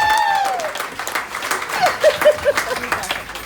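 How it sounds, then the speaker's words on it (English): Applause at a comedy show aboard a Carnival cruise ship, breaking out after a voice trails off, with claps and scattered crowd noise rising in uneven bursts toward the end. "Give him a big round of applause"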